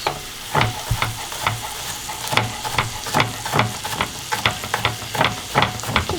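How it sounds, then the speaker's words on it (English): Onions sweat in a pan over medium-low heat for a chickpea curry, a steady soft sizzle broken by repeated scraping stirs in an uneven rhythm, close and fairly loud. "start sweating those onions"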